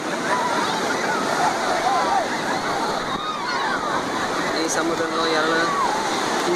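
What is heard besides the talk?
sea waves surging on Mahabalipuram beach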